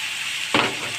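Bottle gourd peel and potatoes drop into hot oil with onion and turmeric, and a sudden burst of frying sizzle erupts midway, then settles into a steady, fairly close crackle.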